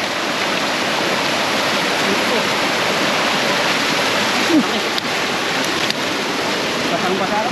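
Rushing water from a dam release, a loud continuous roar like a torrent or waterfall that lasts throughout, with a few faint knocks.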